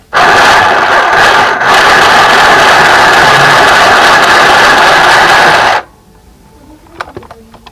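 A mini sewing machine runs steadily at full speed with fabric stuck in place, a loud continuous whirring buzz for several seconds that cuts off abruptly, followed by faint clicks and handling noises.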